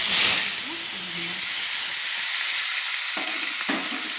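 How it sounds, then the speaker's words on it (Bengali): Chopped onions fry in hot oil in a wok, a loud, steady broadband hiss close by, with a couple of brief scrapes of stirring near the end. "পেঁয়াজটাকে লাল লাল করে ভেজে নিচ্ছি"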